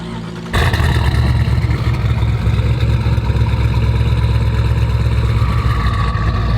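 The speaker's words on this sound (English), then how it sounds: "go ahead and start it up for us. I want to hear this thing." A twin-turbo 1600 hp Jeep Trackhawk engine fires up abruptly after a brief quiet moment, then settles into a loud, rough, steady rumble with a throaty low-end drone, close by.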